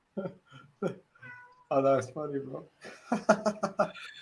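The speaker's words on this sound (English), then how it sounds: "Hey, that's my cat. That's my little cat." A pet cat meows several times at close range, with drawn-out, wavering cries in quick succession, mixed with a voice speaking and laughing.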